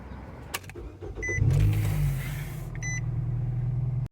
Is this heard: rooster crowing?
no